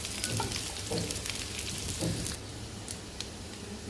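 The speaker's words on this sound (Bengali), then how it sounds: "পেঁয়াজটা ভালো করে ভাজবো" Onions fry in hot oil in a home kitchen, giving a dense, steady sizzle with spattering crackles that is loud for about two seconds, then settles into a softer, quieter hiss.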